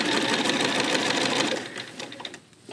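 Sewing machine stitching a gentle curved seam on quilt tile blocks, a steady close mechanical whir running for about two seconds before slowing and stopping.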